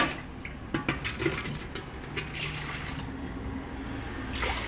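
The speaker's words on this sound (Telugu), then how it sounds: "వన్ అండ్ హాఫ్ వాటర్ తీసుకుంటున్నానండి" Water splashes and gurgles as it is poured onto rice for cooking, one and a half measures, a continuous close pour with a few light clunks of a vessel, no talk.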